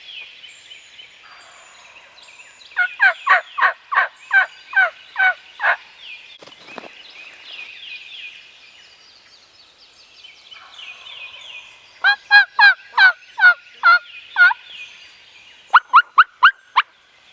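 A wild turkey gobbles in repeated rapid bursts, answered by several series of sharp, rhythmic, aggressive yelps from a turkey call, mid-distance over a quiet outdoor background during a spring hunt.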